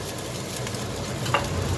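Egg sizzling as it goes into Indonesian fried rice with green onion in a hot pan, a steady close frying hiss with a brief brighter crackle near the end and no talk.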